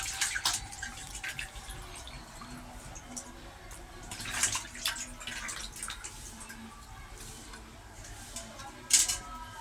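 Chicken meat is washed in hot water in a kitchen, giving quiet running water, soft splashes and a few drips with occasional sharper handling sounds, heard close with no speech.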